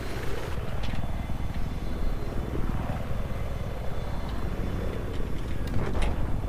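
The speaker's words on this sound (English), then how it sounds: "I got eyes on an enemy chopper." An enemy helicopter in the video game Battlefield 4 drones steadily with a continuous rotor and engine roar, with faint game effects popping over it.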